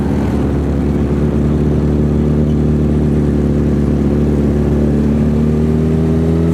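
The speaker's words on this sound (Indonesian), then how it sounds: "pagi ini kita akan manasin motor" A motorcycle engine warms up in the morning, idling with a steady, loud, close drone that rises slightly in pitch toward the end.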